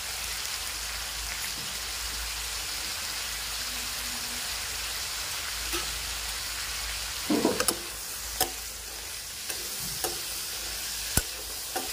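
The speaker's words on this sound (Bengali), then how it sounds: "সবজির মধ্যে নুন হলুদ দেওয়ার পর সবজিটাকে খুব করে নাড়াতে হবে" Winter vegetables seasoned with turmeric and salt sizzle steadily in a pan while a spoon stirs them, giving scattered scraping taps over a continuous rain-like hiss.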